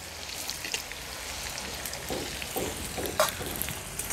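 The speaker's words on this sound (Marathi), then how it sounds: "कांदा थोडा परतून घेते" Finely chopped onion sizzles in hot oil over a wood-fired stove with mustard seeds, cumin and curry leaves, a steady close crackle with occasional sharper pops and light stirring scrapes.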